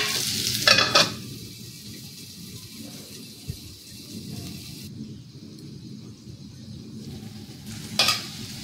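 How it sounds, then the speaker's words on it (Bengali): Potatoes and carrots cook in a pan, a low steady sizzle with two short bursts of scraping as the pieces are stirred, quiet and close with no voices. "এবার এটাকে ভালো করে নেড়ে আর চাপা দেব"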